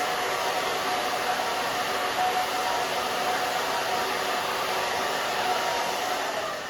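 A hair dryer blowing at a salon while cutting a textured pixie cut, giving a steady, close, even whooshing roar that runs unbroken throughout, with no talking.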